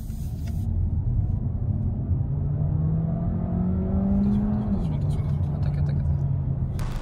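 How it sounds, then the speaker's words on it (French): A 2021 Peugeot 308 PHEV 225 hybrid accelerates in sport mode. A low engine drone climbs steadily in pitch for several seconds, drops sharply as it shifts, then carries on under a constant cabin rumble. "Attends mon ami Thomas, je vais faire une petite accélération. En mode sport"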